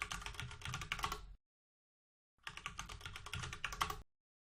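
Quick, close clatter of keys typing a Junos configuration command on a computer keyboard, two dense bursts separated by a short silent pause.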